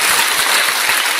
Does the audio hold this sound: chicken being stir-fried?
no